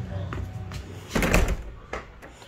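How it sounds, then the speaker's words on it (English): A door in a beach vacation house in Kill Devil Hills, North Carolina swings loose and bangs shut, with soft knocks before and after a louder closing thud, and a voice talking nearby. "Oh no, door's getting away from me."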